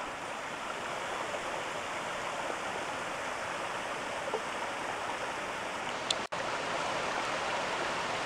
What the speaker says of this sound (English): And over there's the waterfall.